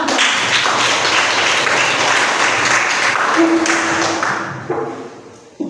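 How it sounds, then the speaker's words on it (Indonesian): A classroom audience applauds a student group, with steady dense clapping that holds, then thins and fades toward the end, ending with a brief tap and a faint tone. "Tepuk tangan untuk kelompok."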